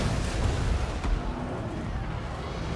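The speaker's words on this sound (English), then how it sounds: "Those rocket batteries are actually doing quite a lot of damage" Rocket batteries firing in the fantasy battle game Total War: Warhammer, distant muffled booms and thuds over a dense rumbling battle din, with a faint whistling streak.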